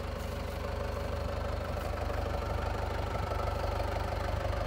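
A Kubota 105-horsepower tractor's diesel engine idles steadily nearby, a low, even rumble with a rapid knocking pulse throughout.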